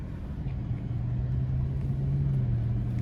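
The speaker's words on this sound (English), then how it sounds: "this supercharged V6 is such a cool powertrain" A 2013 Audi A8 L with a 333 hp supercharged 3.0 V6 and 8-speed automatic cruises, a smooth low engine hum and road rumble heard steadily from the cabin, no speech.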